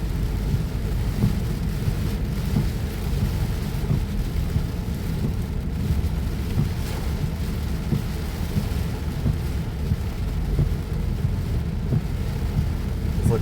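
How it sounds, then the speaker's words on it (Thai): Heavy rain pours down steadily in a rural setting during the wet season, with low thunder rumbling throughout; a dense, continuous roar with no voices. "ยามฝนยามนั้นก็ตกเป็นธรรมดา"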